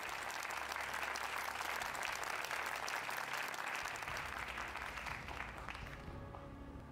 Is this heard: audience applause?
yes